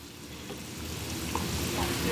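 Half a stick of cold butter drops into a hot reduced wing sauce in a pan with the heat just cut, giving a soft, steady sizzle that swells slightly over a couple of seconds.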